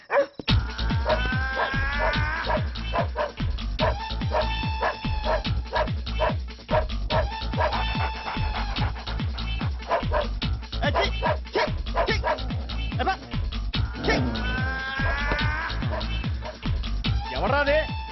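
A dog barks steadily and close, with rapid, dense barks and yips running without pause, as in a comedy film scene, under a constant bed of other sound.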